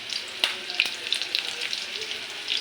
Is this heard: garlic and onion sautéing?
yes